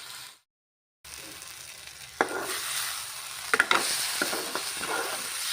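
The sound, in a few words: stirring taro leaf curry in a pan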